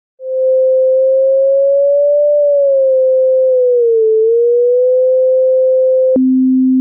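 A steady synthesizer oscillator tone from a VCO in Voltage Modular, holding a pure pitch that drifts gently up and down with frequency adjustment, then drops abruptly to a lower steady pitch at the end.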